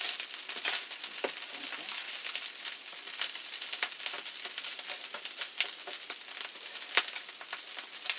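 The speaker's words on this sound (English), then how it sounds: "Sound of food cooking, getting ready to be put to eat inside your belly" Corned beef hash sizzling as it fries, a steady close crackle with dense spitting pops throughout and no talking.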